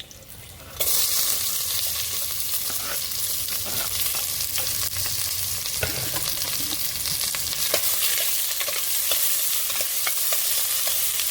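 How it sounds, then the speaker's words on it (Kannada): Onions dropped into hot oil in a pan after chilli, a loud sizzle starting abruptly and holding steady, with occasional scraping stirs. "ಆನಿಯನ್ ಹಾಕ್ಕೊತೀನಿ. ಸ್ವಲ್ಪ ಫ್ರೈ ಮಾಡೋಣ ಅದನ್ನು."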